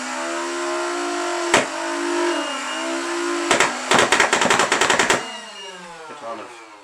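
An electric red Nerf Rival blaster fires a single shot, then a rapid burst of mechanical shots in burst mode, loud and close, over a steady motor whir.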